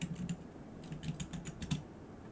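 A computer keyboard is typed on in a quick run of soft, close key clicks as a website address is entered, over a steady low background hum.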